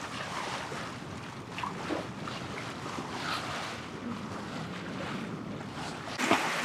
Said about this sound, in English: Oh yeah, we got wind now